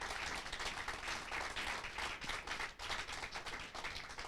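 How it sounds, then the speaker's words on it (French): Church congregation applauding together, a dense continuous wash of clapping that fills the space steadily for several seconds, with no voices on top. "J'aimerais vraiment qu'on acclame le Seigneur."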